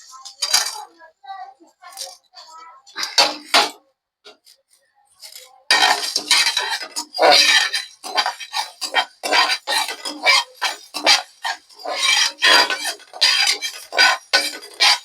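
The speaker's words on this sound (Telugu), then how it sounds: "ధనియాలు ఇదిగో చెక్క లవంగం అనసమగ్గ పువ్వు అన్నీ కలిపి వేపేస్తున్నానండి" Whole coriander seeds, cinnamon, cloves and star anise dry-roasting in a pan for chicken dum biryani: a run of quick, close rattles, clinks and scrapes as the spices are stirred and tossed, growing busier and denser partway through.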